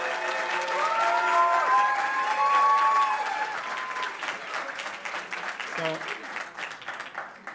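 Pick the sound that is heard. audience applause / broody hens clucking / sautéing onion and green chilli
audience applause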